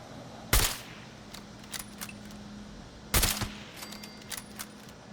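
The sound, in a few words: gunfire from a weapon in video game Fallout 76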